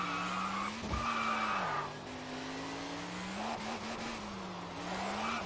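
In the racing game Test Drive Unlimited, a car's tires squeal in a long, wavering skid as the car spins out, with the engine droning steadily beneath the screech.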